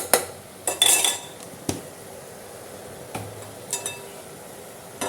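A spoon scrapes and clinks against a pot while crushed green chili, ginger and garlic masala is stirred into tomatoes for chicken biryani, giving a few sharp metallic taps over a quiet, hissing background.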